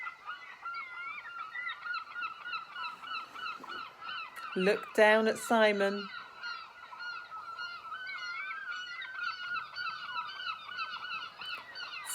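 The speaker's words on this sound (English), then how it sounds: "I'm going to give you a close-up of a seagull." Seagull calls: a burst of loud, harsh, repeated squawks lands midway, set against continuous lighter chirping and calling. A voice narrates over it.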